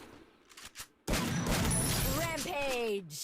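Gunfire from the Free Fire video game on a new map, a loud dense burst of shots over a second or two with game effects following, while a player talks throughout.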